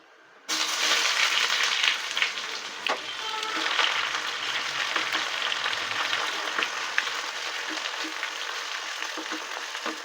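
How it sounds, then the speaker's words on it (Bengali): Thinly sliced onion hits hot oil in a pot of mango khichuri and sets off a sudden, steady, loud sizzle that holds for several seconds, with a few soft stirring knocks. "বড় পেঁয়াজটা ঝিরিঝিরি করে কেটে রেখেছিলাম সেই পেঁয়াজটা দিয়ে দিচ্ছি"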